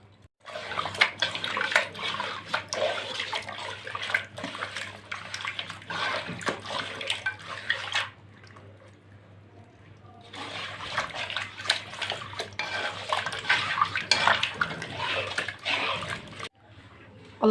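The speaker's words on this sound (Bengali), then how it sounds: "লেবু এবং লবণ দিয়ে মাছগুলো ভালোভাবে ধুয়ে নিব।" Catfish being washed by hand in water with lemon and salt, steady splashing and sloshing in two long stretches separated by a brief quiet pause.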